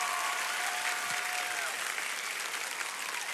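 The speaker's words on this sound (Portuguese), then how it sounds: "pode dar uma salva de palmas para Jesus mesmo." A church congregation gives a round of applause, a thick, even wash of many clapping hands sustained at steady loudness throughout, with a faint tonal sound briefly underneath.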